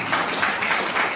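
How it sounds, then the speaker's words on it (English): An audience at a law lecture in Kerala claps in applause, a dense, steady patter of many hands close by that continues through the whole moment. "Let us give a big clap to principal and team for organizing"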